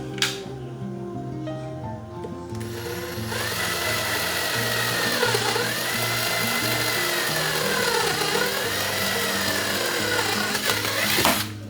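A power drill whirs steadily for several seconds drilling marked holes in an IKEA Tarva kitchen island, its pitch dipping as it bites into material, close and loud.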